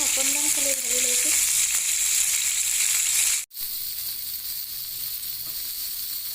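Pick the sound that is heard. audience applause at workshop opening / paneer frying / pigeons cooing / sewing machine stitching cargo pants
paneer frying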